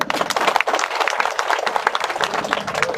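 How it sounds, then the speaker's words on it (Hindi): A crowd at a public event honouring a South Asian wrestling gold medallist gives loud, sustained applause for the Bihar government, many hands clapping densely and continuously, close and steady for the whole stretch. "तो हम चाहेंगे एक बार बिहार सरकार के लिए जोरदार ताली लगे"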